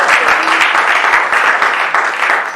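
A French-speaking church congregation claps loudly and steadily as an offering of praise to God, a dense, continuous burst of many hands with no talk over it.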